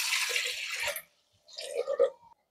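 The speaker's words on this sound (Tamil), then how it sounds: "இப்போ கழனியை ஊற்றிக்குவோம்." Rice-washing water is poured into a cooking pot for boiling lentils, first a splashing gush that stops abruptly, then after a short pause a second, gurgling pour with drips, close and clear.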